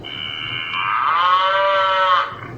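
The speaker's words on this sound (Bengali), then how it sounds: "cow, গরু" A cow moos once in a single drawn-out, rising and falling call lasting about two seconds, fairly close and clear, with no talking over it.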